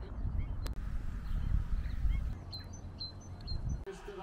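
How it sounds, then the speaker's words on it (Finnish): Seabirds call out by the sea in Stockholm, with goose-like honks and sharper cries rising over steady wind and water rumble, several calls scattered through the stretch at moderate distance. "Ja linnut laulaa, niin on tää kyllä aika mahtavaa."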